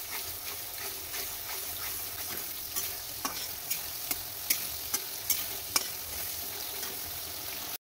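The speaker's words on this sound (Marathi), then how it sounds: "हे वाटण आपल्याला तेलामध्ये शिजवायचं आहे" A ground masala paste fries in oil in a kadai for chicken rassa, with a soft continuous sizzle under repeated scraping stirs and a run of sharp spatula taps toward the end.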